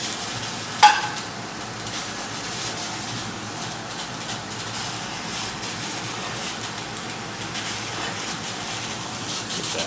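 Eggs fry in a pan and get mixed in, giving a steady, faint sizzling hiss throughout with one brief sharp tap near the start and no talking.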